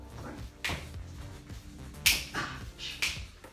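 Finger snaps during a Michael Jackson-style dance routine, several sharp crisp clicks at uneven intervals over a quiet background.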